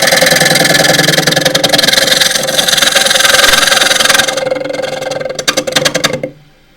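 A half-inch bowl gouge cuts a split elm bowl spinning on a lathe, a loud continuous rough shearing hum with chattery texture that breaks into a few choppy cuts before stopping.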